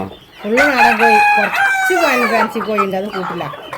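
A native country rooster at a poultry market crows loudly and close, one long drawn-out call followed by clucking and further crowing from the birds around it.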